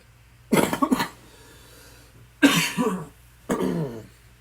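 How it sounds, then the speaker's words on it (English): Three separate harsh coughs, close and loud, spaced about a second or more apart, with quiet gaps between them. "Excuse my cough."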